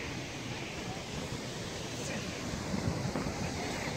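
Sea waves washing ashore at a beach in Langkawi, Malaysia, a steady broadband surf hiss with wind buffeting the microphone, swelling slightly toward the end.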